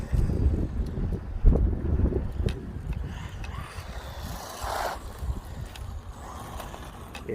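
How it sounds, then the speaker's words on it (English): Wind gusts steadily across a backyard outdoors, rumbling low into the microphone with a constant rough hiss and some faint mechanical whirring. "Plus, it's still windy."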